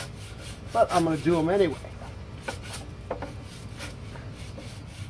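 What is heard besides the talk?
scrubbing teak wood on a Boston Whaler boat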